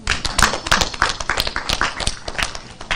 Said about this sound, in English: Can I hear a hand clap?